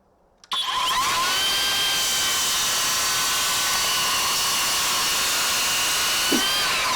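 A Skilsaw cordless worm drive circular saw cuts through MDF, starting abruptly after a brief quiet moment and then holding a loud, steady motor whine with no talking.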